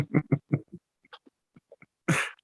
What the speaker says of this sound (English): turn your face when you cough.